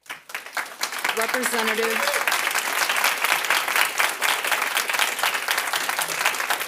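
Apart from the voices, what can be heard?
applause in committee hearing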